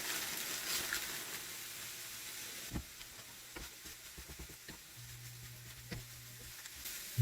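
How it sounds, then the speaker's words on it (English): Broccoli slaw from a bag sizzles in a pan with cooked meat for a keto egg roll in a bowl, a steady soft hiss broken by scattered stirring clatters, with no voices. "Next step we're going to do is add the bag of broccoli slaw to the cooked meat."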